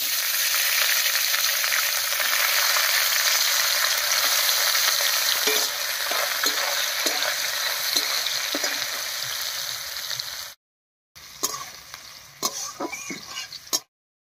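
Grated coconut sizzles steadily in hot oil with whole spices (cardamom, cloves, peppercorns, bay leaf) for a vegetarian ghugni, loud and close with occasional stirring scrapes, briefly cutting out before resuming with sharper stir clatter.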